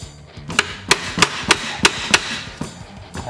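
Hammer blows strike a small bolt rammed through the wheel of a 1958 Wheelie Horse RJ58 during restoration, seven sharp metallic knocks at a steady rhythm, loud and close over a faint background hum.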